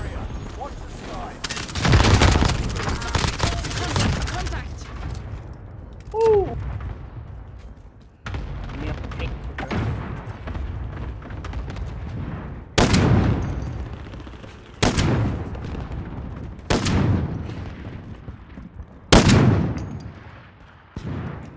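Heavy automatic gunfire from a Call of Duty Warzone match rattles in long loud bursts and sharp repeated volleys with booming impacts, a voice briefly heard between shots.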